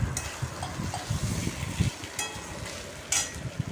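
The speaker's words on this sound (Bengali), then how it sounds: "চালটাকেও একটু ভালো করে ভেজে নেব।" Rice with fried potato and pointed gourd is stirred and fried with spices in a pan, giving repeated scraping strokes over a low sizzle, close and fairly loud.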